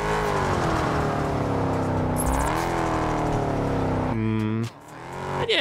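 Mercedes SLK 55 V8 engine in the Drive Unlimited racing game, a loud steady drone that rises and falls in pitch as it revs, then drops briefly before revving up again at the end.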